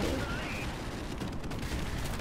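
Dense gunfire and explosions from the Modern Warfare Remastered video game, a steady, crowded barrage of shots and blasts with no pauses.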